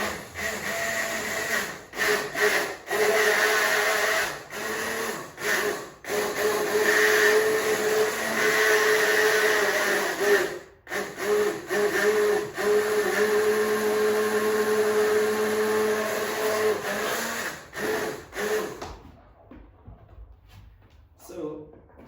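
A hand blender whirs through a chicken, leek and bacon soup, a loud continuous motor drone cut by brief pauses as it starts and stops, then falling silent near the end.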